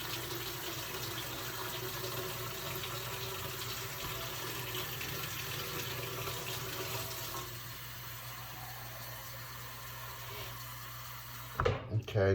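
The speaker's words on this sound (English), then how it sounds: "you take this, the base, and you fill it with really hot water" Hot tap water running steadily into a moka pot base, a continuous close gush that thins after a while, with a brief clatter near the end.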